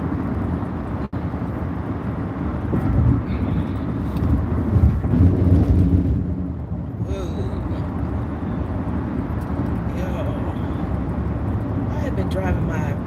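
A car drives along the road with a steady, loud low engine and road rumble, while a person talks over it the whole time.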